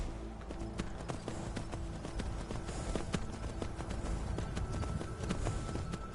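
Horse hooves clip-clopping in the video game Skyrim VR, a quiet steady run of rhythmic hoofbeats over a low background rumble, with no talk.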